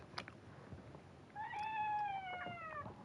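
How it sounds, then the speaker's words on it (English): Cat meowing to be let out of a room, with a single drawn-out, wavering meow rising out of quiet indoor background after a few faint soft sounds, fairly close and clear. "my cat wants out of my room"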